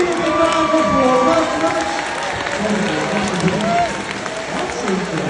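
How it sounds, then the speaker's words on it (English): Audience applause and cheering at a sea lion show in a zoo and safari park, a steady dense clapping crowd heard up close for several seconds, easing slightly toward the end. "So give him a round of applause."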